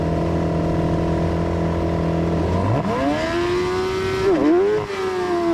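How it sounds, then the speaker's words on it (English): A race car launching off the start at Brands Hatch in the rain, engine holding a steady high idle before revving hard as the wheels spin, pitch sweeping up and wavering loudly and close. "decent launch, although a lot of wheel spin, a lot of lock, so didn't get the best traction"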